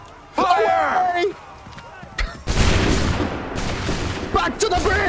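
Musket volley gunfire in the video game Assassin's Creed III, a loud dense burst of overlapping shots that rolls on for a few seconds, with shouted commands heard before and between the volleys.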